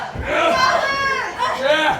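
A wrestling audience at an AWF High Voltage event cheers and roars in swelling waves, with a large crowd filling the arena.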